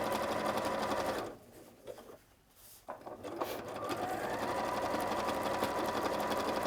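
A sewing machine stitches a 3 by 1.5 zigzag in a close, rapid mechanical whir, slows and pauses briefly in the middle, then resumes at a steady pace.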